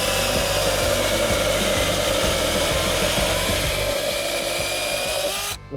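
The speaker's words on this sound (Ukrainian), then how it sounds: "давайте тепер зрівняємо, яка пилка швидше ріже, чи безщіткова, чи щіткова" A cordless mini chainsaw, Sequoia SBC2004M-QV or SBC2008BM, buzzes steadily and loudly through wood without pause, cutting off abruptly near the end.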